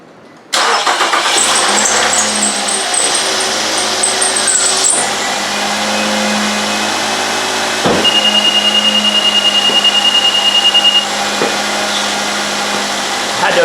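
A 2010 Nissan Altima 2.5-liter engine cranks and catches close by, then settles into a steady idle while a high, thin belt squeal rings over it for a few seconds before fading.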